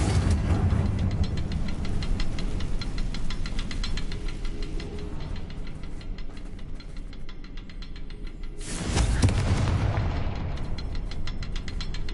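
A Confringo spell explosion in Hogwarts Legacy, cast to clear spiderwebs: a steady rumbling, crackling roar with a sharp loud burst near the end, and no voices.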